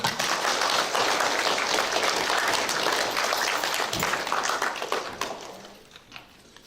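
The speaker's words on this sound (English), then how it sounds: "round of applause." Applause at a school assembly: a dense round of clapping from many hands, loud and steady for most of the span before thinning out and fading near the end.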